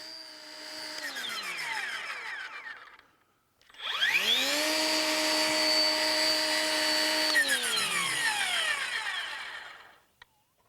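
A Worx Nitro 40V cordless weed trimmer fitted with a brush blade whines up to speed, winds down, then spins up again to a loud, steady high-pitched motor whir before coasting to a stop.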